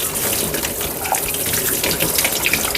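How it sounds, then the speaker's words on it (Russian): Steady gush of running tap water, loud and continuous throughout, as something is rinsed clean under the faucet while cleaning. "Смываю."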